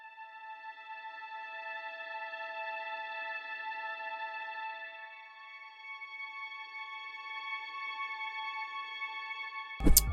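A beat instrument passes through a Logic EQ low-pass filter, giving soft sustained tonal layers with a muffled, distant character that hold steady throughout and end in a sudden loud burst.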